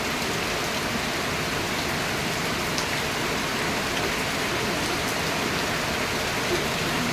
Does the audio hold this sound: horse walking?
no